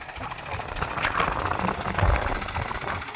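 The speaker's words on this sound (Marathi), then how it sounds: "आणि निघालं ट्रॅक्टर आता." A farm tractor engine runs steadily nearby, a loud rough mechanical rumble with a continuous throb that swells slightly midway, with no talking.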